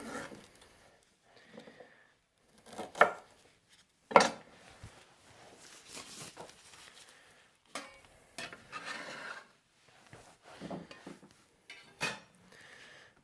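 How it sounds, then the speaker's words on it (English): Kitchen knife roughly chopping peeled ingredients for a curry paste on a board, a series of irregular, fairly close knocks and scrapes with short pauses between them and no talking. "I'll just give that a rough chop, just to make the food processor's life a little bit easier"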